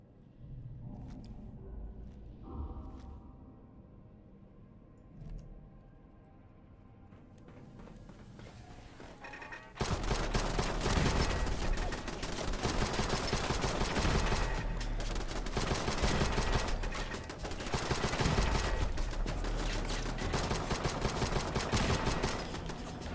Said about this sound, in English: And the turrets are back.